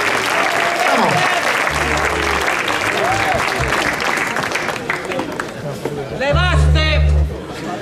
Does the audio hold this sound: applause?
yes